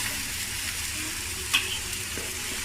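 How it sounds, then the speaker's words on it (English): Blended garlic, ginger and onion paste stir-fried in hot oil for a spicy tomato chicken dish: a soft, steady sizzle with a single brief clink partway through. "Stir fry them"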